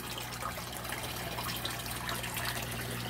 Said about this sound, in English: as you can see, the water is flowing.